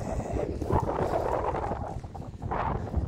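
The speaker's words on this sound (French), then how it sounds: "Oh, il y a vraiment du vent" Gusty wind outside Chartres Cathedral buffets the microphone with a constant low rumble and roar, swelling and easing in uneven waves.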